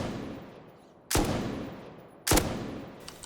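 Two loud single shots from an M249 machine gun in the video game Rust, each a sharp crack with a decaying tail, about a second apart with quiet between them.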